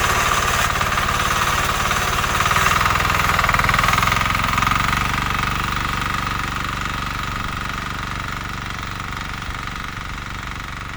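A walk-behind tractor's engine runs in second low gear while weeding potatoes, a loud, close, steady rattling drone with a hammering pulse that holds throughout.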